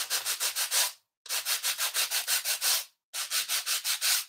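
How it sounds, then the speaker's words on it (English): A nail file rubbed back and forth across paper in three bursts of quick, rhythmic scratchy strokes with short pauses between, close and fairly loud with no talking. "the nail filer is a little more gentle"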